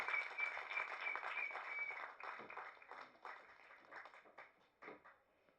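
Audience applause at a film press meet, a fairly quiet patter of many hands that thins into scattered individual claps and fades out over several seconds.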